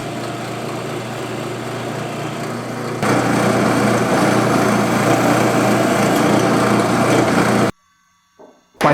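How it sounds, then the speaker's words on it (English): A drill press cuts a countersink for a carriage bolt into a wooden sanding block, a steady motor whine that grows louder as the bit bites, then cuts off abruptly into near silence. "At the drill press, I need a countersink for a carriage bolt"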